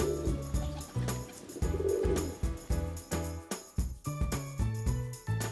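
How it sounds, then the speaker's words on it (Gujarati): A pigeon coos in a series of low, soft, repeated calls, each rising and falling, with light tinkling tones mixed in; no speech. "પીઝન. પીઝનને ગુજરાતીમાં કહીશું કબૂતર અને હિન્દીમાં પણ કહીશું કબૂતર."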